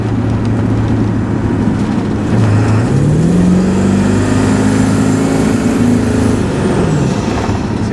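A Ford 7.3 liter diesel engine with water-methanol quench revs hard at full throttle, a loud, close, continuous roar whose pitch climbs, holds, then falls back.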